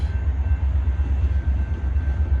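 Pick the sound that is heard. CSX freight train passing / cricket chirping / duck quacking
CSX freight train passing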